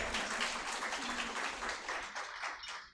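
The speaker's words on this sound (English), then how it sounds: "So can we have another round of applause for Justice Muralidhar?" An audience at a program on preventing violence against migrant women applauds Justice S. Muralidhar, a fairly quiet but full round of many hands clapping that swells early and gradually tapers toward the end.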